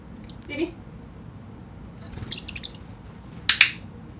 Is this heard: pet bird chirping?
yes